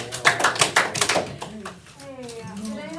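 Four sharp hand claps in quick succession ring out close by, with people chatting and a voice in the background around them.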